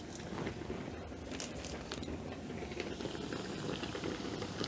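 Twist donut dough frying in hot oil, a dense, continuous bubbling roar with fine crackling throughout, steady and close, with no one speaking.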